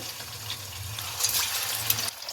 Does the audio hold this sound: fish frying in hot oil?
yes